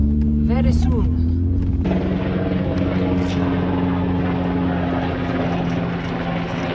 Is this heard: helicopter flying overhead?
yes